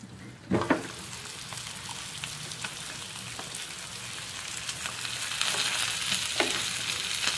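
Beef fillet steak fries in butter in a pan, giving an even, close sizzle that swells slightly toward the end, with a couple of sharp utensil knocks near the start.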